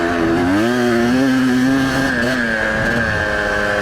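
Motorcycle engine revving steadily up close, its loud droning note rising and falling in pitch through a ride, with no talk over it.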